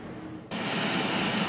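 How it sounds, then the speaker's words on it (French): Helicopter with the Prime Minister aboard coming to a stop on a town airstrip, a steady, loud turbine whine and rotor roar that jumps up sharply partway through and holds, with no talking. "l'hélicoptère transportant le Premier ministre Emmanuel Nadingar s'est immobilisé sur la piste d'atterrissage de la ville de Boul"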